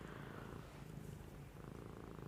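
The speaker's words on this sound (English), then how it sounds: "Cat jumped up on my lap." A cat resting on a lap purrs softly and steadily, a faint, continuous low rumble with no voices.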